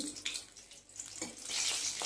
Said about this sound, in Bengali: এই জন্য তোমার মাছ ভাজছি